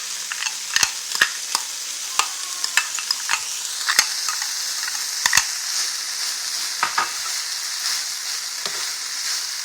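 Green onion stir-frying in a hot pan for Lao-style bánh cuốn, a steady broadband sizzle close by with repeated sharp clicks and scrapes of a utensil against the pan, no voices.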